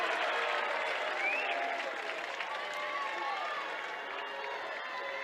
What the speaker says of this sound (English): Davis crowd doesn't like it, but it was the right call in my opinion.